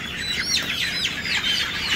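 Close, shrill chicken cries sweep up and down in quick overlapping calls, a brief noisy burst from hens having their beaks burned and trimmed, with no speech.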